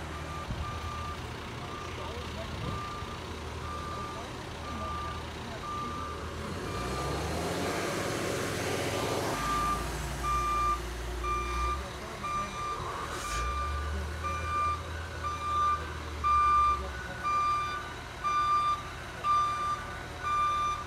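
Dump truck at a trench work site while raising a manhole, its reversing alarm beeping steadily and evenly over a low engine rumble, with heavier machinery noise surging midway.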